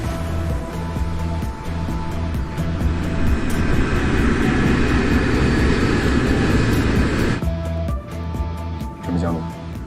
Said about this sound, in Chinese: 飞机马上就要降落了